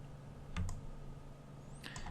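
Two faint keystrokes on a computer keyboard, pressing the delete key during 3D modeling work, soft close clicks about a second apart over quiet room hum.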